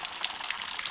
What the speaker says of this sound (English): So it's basically draining the hot water tank to start